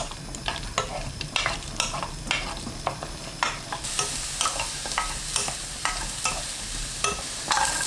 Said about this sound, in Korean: 팬에 식용유 1스푼, 감자 넣고 중불로 4분 볶습니다.